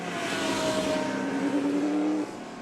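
Vintage SVRA race cars bunched in traffic on the back straight at VIR, several engines roaring together at high revs with rising and falling pitch as they pass, loud and close before the sound drops away near the end.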